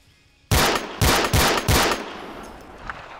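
Four loud, close DMR rifle shots fired in first person in the video game Arma 2, evenly spaced about half a second apart, each a sharp crack with a long echoing tail fading into quiet afterward.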